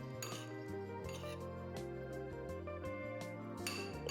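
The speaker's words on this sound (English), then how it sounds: "Mix them well together." Utensil clinking against a bowl while mixing beef marinated with seasoning powder, sugar and corn flour: repeated chinks and scrapes under steady background music.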